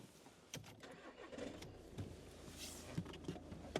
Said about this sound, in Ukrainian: Заводжу автомобіль.